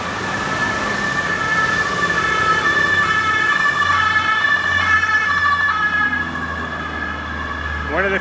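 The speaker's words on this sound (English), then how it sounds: "a few sirens you hear at Bangkok" An emergency vehicle siren wails continuously amid Bangkok street traffic, loud and close, with engines rumbling underneath.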